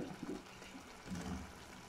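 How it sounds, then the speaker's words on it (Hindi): Cooking oil pours into a pot for mutton mince, a faint, steady liquid trickle with a few gurgling swells, soft and close, with no voices. "अब इसमें हम ऑयल डाल देंगे"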